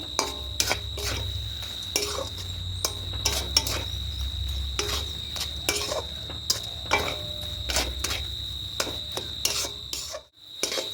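A spoon scrapes and rasps steadily through a thick coconut mixture with cardamom and camphor for Bengali white coconut naru, repeated close stirring strokes over a faint background hum.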